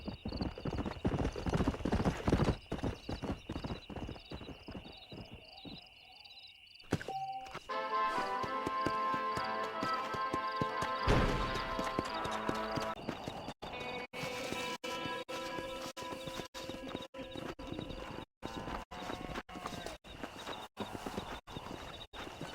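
Horse hooves in Red Dead Redemption, a continuous fast clip-clop of galloping with a whinny early on, loud and close over a background of game music and ambient sound.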